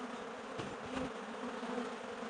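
A swarm of bees droning around a honey extractor set out for them to lick clean, a continuous close buzzing with individual insects passing near the microphone and no talking.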